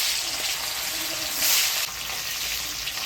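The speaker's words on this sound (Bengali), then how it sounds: "সাদা তেলে ছানাগুলা ভাজি নিব।" Fresh cheese (chhana) fries in white oil with a dense, even crackling sizzle that swells briefly midway, close and steady with no talk.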